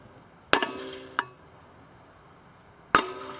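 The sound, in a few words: tapping a lawn mower engine flywheel loose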